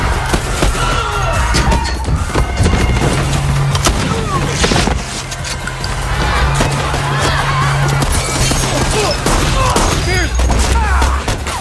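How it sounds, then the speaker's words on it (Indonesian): Shootout scene in a film with dense gunfire, rapid cracks and bursts over a loud, busy mix of crashes and music, with voices shouting throughout. "baku tembak pun terjadi dengan seru"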